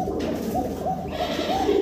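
Kashmiri Lotan pigeons coo at a bird market, several soft rolling coos repeating close by over a background murmur.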